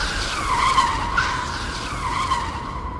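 A car brakes hard and its tires skid and squeal steadily for about three seconds, a loud continuous screech with no voices over it.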